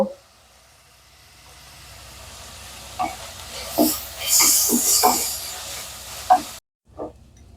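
Food sizzles in a frying pan as salt and turmeric go in, a soft steady hiss with scattered stirring scrapes and pops growing louder midway, then cutting off.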